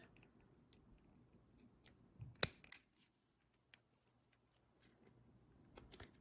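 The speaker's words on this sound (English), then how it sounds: "I'm just going to come in and trim it off there" Metal embossing sheet for a small tabletop Christmas tree is trimmed with scissors; soft scattered snips and rustles build to one sharp close cut, then quiet handling and a few faint clicks.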